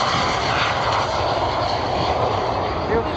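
A loud, steady roar of a Slovak Air Force L-39 jet's engine fills the clip, broadband and rushing, as the plane gathers speed on takeoff at the 2010 Gilze-Rijen air show.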